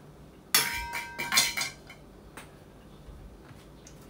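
A spatula scrapes and knocks against a mixing bowl while workout food ingredients are combined at home, producing a cluster of clinks and scrapes, then a single faint tap and a quiet pause.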